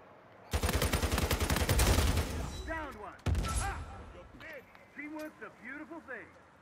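A long, loud rapid-fire burst from the Copperhead rifle in Uncharted 4 multiplayer, followed by a second shorter burst, as a voice talks over and after the gunfire.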